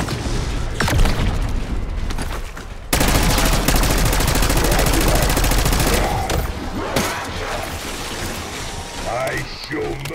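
Continuous gunfire in Black Ops 6 Zombies, dense rapid bursts with mechanical clatter and booms filling the scene, loud and close, dropping briefly before resuming with scattered shots toward the end.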